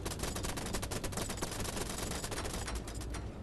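Rapid, dense automatic gunfire bursts loud and close in a Spider Horror multiplayer game, with an almost unbroken rattle of shots that trails off near the end and no speech.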